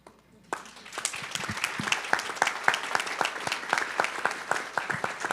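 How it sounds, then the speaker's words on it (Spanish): After a brief quiet moment, a conference audience at a clinical research summit panel breaks into steady, lively applause with many hands clapping at once. "merecen un aplauso"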